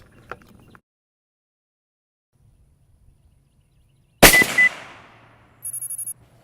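A single rifle shot fired down range from a scope-equipped rifle on a cold clean bore, one sharp loud crack with a decaying tail in an otherwise quiet outdoor setting, followed by a brief series of faint electronic beeps.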